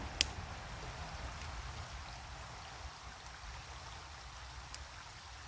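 A creek flows outdoors near a deck, a faint, soft, continuous trickling wash heard from a distance, with a couple of tiny sharp ticks and no voices.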